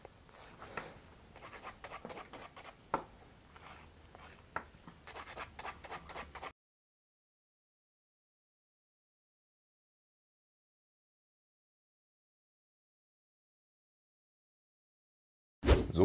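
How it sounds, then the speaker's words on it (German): A nail file rasps back and forth along the sides of gel or acrylic fingernails in quick, close scratchy strokes for several seconds, followed by a long silence. "Somit habe ich die Seiten schon mal gerade gefeilt"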